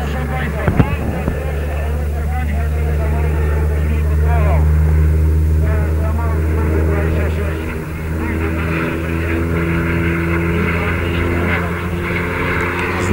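A nimble, quiet-engined aerobatic propeller airplane makes a low pass at a Mielec aero club anniversary air show, its steady engine drone rising and falling continuously with a commentator talking over it throughout.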